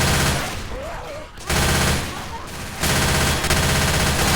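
Bursts of rapid automatic gunfire in Left 4 Dead 2 while fighting zombies, three loud sustained volleys separated by brief lulls where softer game sounds and voices come through.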